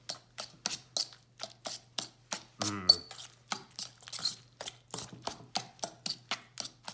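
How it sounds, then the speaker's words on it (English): Eggplant mashed with garlic for baba ganoush, giving a steady run of wet, squishy thumps against a bowl, roughly three per second, with one louder scrape partway through. "So we're just mashing it up"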